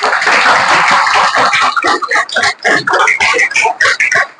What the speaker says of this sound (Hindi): ताली बजाओ मेरे लिए